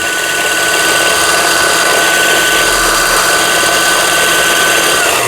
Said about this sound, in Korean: 지금 모터는 아주 파워 있게 잘 들어가고 있습니다